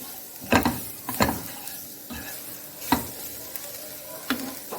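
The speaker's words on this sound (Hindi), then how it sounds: "इसे हम सिर्फ 1 मिनट के लिए ही भूनेंगे" Spices are roasted in a pan for samosa filling: a soft sizzle runs underneath while a spoon stirs and scrapes, making four or five sharp knocks against the pan at uneven intervals.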